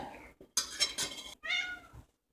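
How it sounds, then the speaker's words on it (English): A cat meows a few times in short, bright cries, fairly close, with faint kitchen clatter before it. "Sounds like the cat wants some too"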